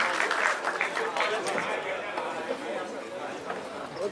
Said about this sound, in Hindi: सनी सर के लिए बार जोरदार तालियां।